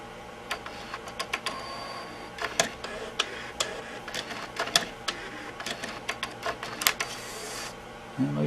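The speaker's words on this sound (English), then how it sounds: "Let's go ahead and try to eject one of these." A Nakamichi 5-disc CD-ROM changer ejecting a disc, giving a run of sharp mechanical clicks and ticks in an uneven rhythm, close and fairly quiet, ending with a faint thump.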